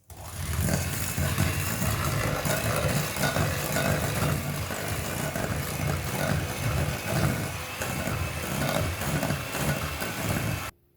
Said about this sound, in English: If you're going to use an electric whisk, then make sure that it's pushed down and then you turn it on.